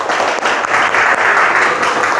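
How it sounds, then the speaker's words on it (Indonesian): Loud, continuous applause from a class of vocational high school students fills the room, close and steady with no pauses for its whole short length. "Tepuk tangan dulu untuk kita semua"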